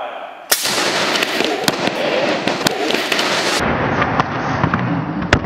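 A bowling ball cannon fires into a man's stomach with a sharp, loud blast right after a countdown, followed by a crackling, broadband rush and scattered pops, then a quieter tail.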